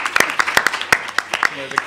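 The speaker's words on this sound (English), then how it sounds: "A round of applause for Mr. Jacob Newfeld." Applause from an audience at a New School event on emergency and disaster management, with irregular sharp claps over about two seconds and a little background talk.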